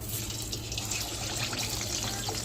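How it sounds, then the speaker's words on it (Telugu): Fish seasoned with lemon, salt and turmeric fry in hot oil with a dense, steady hiss and crackle of bubbling throughout. The sizzle is fairly soft, with no talking. "చేపలు అయితే మంచిగా ఫ్రై అయితే అవుతున్నాయి"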